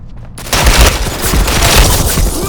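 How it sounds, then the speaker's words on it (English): Rapid gunfire in the online shooter Ghost Recon Online, a loud burst of shots starting abruptly after a half-second lull and continuing densely to the end, close and dominant with no talk. "He was shooting me before I even saw him."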